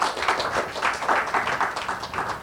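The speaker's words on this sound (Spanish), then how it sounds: "Pues dale un fuerte aplauso una vez más al Señor." A church congregation clapping in praise during a Spanish-language worship service, a loud, dense run of rhythmic claps that rise and fall in waves throughout.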